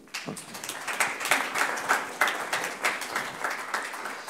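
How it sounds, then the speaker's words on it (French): Audience applause for a panel of speakers at a French conference on securitization, a steady wash of many hands clapping at moderate volume throughout, with no talking over it. "On peut vous applaudir"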